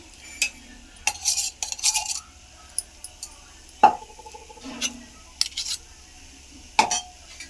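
A spoon stirs a semiya mixture in a vessel, making scattered clinks and scraping taps in irregular bursts, some sharper metallic knocks standing out against near silence.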